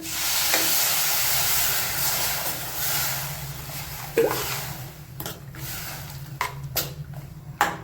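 Water poured into masala oats in a hot pan sets off a soft steady hiss and sizzle, followed by scattered clinks and stirring knocks as it simmers, quiet and close.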